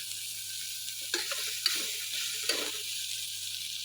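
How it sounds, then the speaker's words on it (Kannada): Vegetables frying in a pan for a gravy, with a soft, continuous sizzle and a few quiet stirring scrapes close by. "ಈಗ ಫ್ರೈ ಆಗ್ತಾ ಇದೆ."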